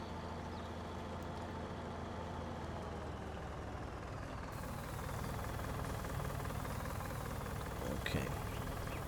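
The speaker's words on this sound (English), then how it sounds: "What I do need to do though is turn this engine off for sure." A steady, low engine drone from a farm vehicle in Farming Simulator 19 runs unbroken throughout, idling evenly with a faint rise in loudness midway and no talk over it.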